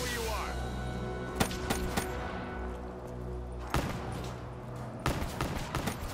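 Pistol fire in Black Ops III Zombies: sharp gunshots crack out singly and in quick clusters at close range, with voices talking between and over the shots.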